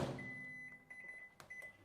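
A microwave oven runs at low level while margarine melts under cling wrap, a quiet steady hum with a thin whining tone and a couple of faint clicks or beeps near the end.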